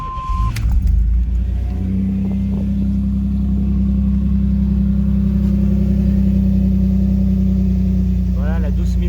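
A 1992 Pontiac Firebird fitted with a new exhaust line starts up, then settles into a loud, steady, deep idle rumble that continues close by. A brief higher-pitched tone is heard early on.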